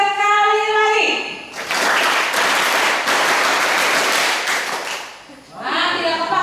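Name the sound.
applause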